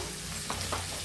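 Sliced onions sizzle in a pan for chicken curry while being stirred, a steady close hiss with a couple of brief scraping strokes.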